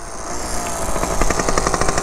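A motorcycle engine runs nearby with a rough, sputtering idle that pulses rapidly and unevenly.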